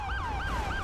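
Wailing police siren in LSPDFR, the police mod for GTA V, cycling up and down in a steady repeating sweep, loud and continuous over a low engine rumble, with no talking.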